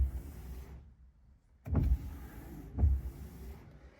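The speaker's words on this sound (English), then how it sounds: "Functions test on the wipers." Car windshield wipers run during a function test: two short motor-driven sweeps about a second apart, quiet and close inside the cabin, with a low hum between strokes.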